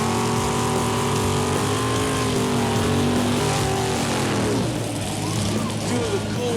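A 1929 Chevy and a 1965 El Camino drag race in a finals grudge match, their engines holding a loud sustained roar that drops in pitch as they pass.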